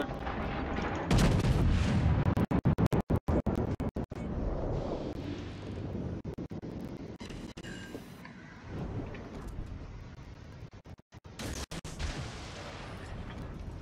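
Naval artillery fire in World of Warships, heavy booming salvos and sharp cracks in clusters over a rumbling battle background, spaced irregularly across the scene.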